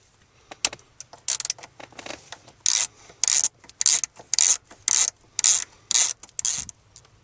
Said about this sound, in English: I'm going to unbolt that with a